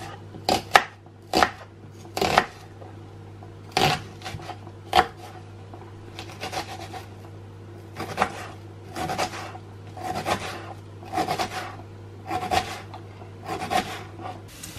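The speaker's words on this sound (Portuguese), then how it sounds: "E vou cortar agora a cebola." Knife chopping onion and garlic on a board for caldo verde, heard as sharp, irregular close-up chops with short pauses and clusters of quicker strokes, no talking.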